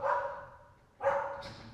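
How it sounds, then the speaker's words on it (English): Indoor dogs bark at another dog outside, giving two separate muffled barks roughly a second apart, fairly faint as if from another room, with no talking. "The dogs right now, they're barking."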